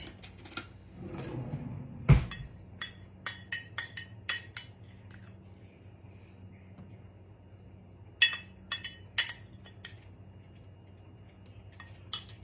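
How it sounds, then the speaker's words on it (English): A spoon clinks and scrapes against a dish while melted butter is scooped out in a home kitchen, with scattered sharp metallic taps and one louder knock over quiet room tone. "Let me get a spoon so we get all of this butter out"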